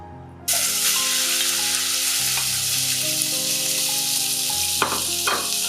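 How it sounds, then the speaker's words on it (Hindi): Half a kilogram of julienne-cut chicken breast dropped into hot oil, bursting into a loud, sustained close sizzle with a couple of stirring scrapes near the end. "चिकन ब्रेस्ट मैंने लिए है तकरीबन ½ kg और इसको मैंने ऐसे जूलियर कट कर लिया था। अब मैं इसके अंदर डाल दूंगी सारी"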